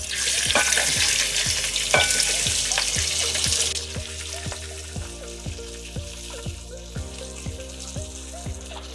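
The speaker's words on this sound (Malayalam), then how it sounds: "ഇനി നമുക്ക് സവോളയും ക്യാപ്സിക്കവും പച്ചമുളകും ഇട്ട് കൊടുക്കാം." Onion, capsicum and green chili hit hot oil for chilli chicken with a loud, hissing sizzle that settles after a few seconds into a softer fry under an even rhythmic tapping.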